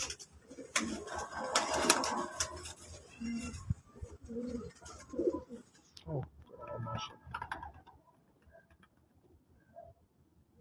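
Pigeons coo softly in a loft or on a rooftop, giving low, repeated throaty calls that come and go among wing flutters and rustling, with people talking nearby.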